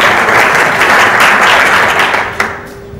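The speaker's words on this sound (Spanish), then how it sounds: "Un aplauso" Loud audience applause rings out at a conference talk on creativity and innovation, a dense, close wash of many hands that stays full before thinning and tapering off near the end with a last few scattered claps.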